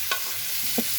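Papaya curry stirred in a frying pan: a soft continuous sizzle broken by two short spoon scrapes about two-thirds of a second apart, close by and without speech.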